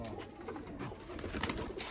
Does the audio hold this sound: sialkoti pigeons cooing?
yes